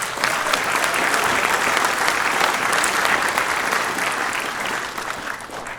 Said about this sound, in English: Let's have another round of applause for our jazz group.